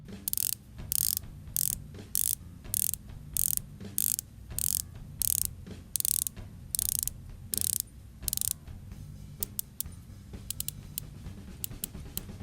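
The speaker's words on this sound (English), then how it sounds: "very easy to move for how stiff it is, and the ratcheting feels really good" Ratcheting watch bezel with a gray ceramic insert turned by hand, producing a quick run of crisp, evenly spaced clicks up close, followed by a few sparser single clicks near the end, with no talking.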